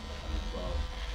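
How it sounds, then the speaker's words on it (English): An electric hair clipper trimming a beard at a barbershop, a steady close low buzz lasting about a second with a voice faintly over it. "So I just literally just put my clipper through"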